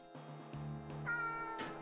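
Cat meows from the Wild ARMs video game: a couple of short, tonal synthesized mews one after another over steady game music, fairly clear and close.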